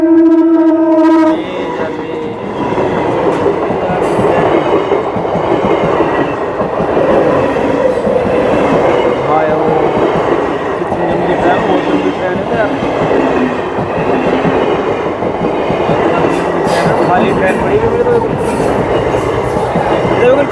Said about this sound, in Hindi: अभी ट्रेन आएगी, ट्रेन देखना अभी यार